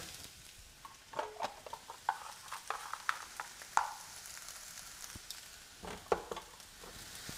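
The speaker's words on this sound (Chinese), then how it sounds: "用筷子一直搅，把蛋炒散。" Eggs being stirred and scrambled with chopsticks in a frying pan over low heat, with irregular light taps and scrapes against the pan over a soft, steady sizzle.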